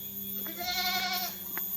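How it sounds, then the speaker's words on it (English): A goat on a mountain path lets out a single wavering bleat, moderately close, over a steady background hum, with faint bleats from the rest of the herd. "so many goats. They want to let me know that they're there."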